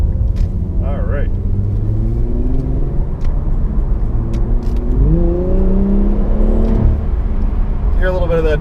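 The 400-horsepower VR30 twin-turbo V6 of a 2019 Infiniti Q60 Red Sport rises and falls through several revving pulls during a test drive, a steady loud cabin drone with shifting pitch.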